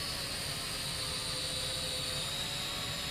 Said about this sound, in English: this is the flight demo of the Deng X Fighter, or K60